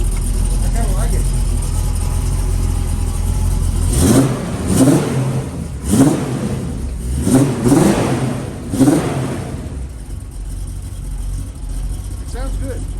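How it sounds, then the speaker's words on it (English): A car with a new, slightly raspy aftermarket exhaust revs in several short bursts over a steady idle, close and fairly loud, before settling back to a low rumble. "That new exhaust does sound good. Yeah, it's a little raspy down low."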